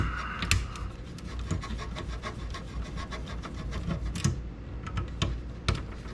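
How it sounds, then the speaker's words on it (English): Screws being backed out of a VCR being scrapped: a continuous close scraping, rubbing texture with repeated small clicks and a few sharper metallic ticks scattered throughout. "You just keep taking screws out until it falls out."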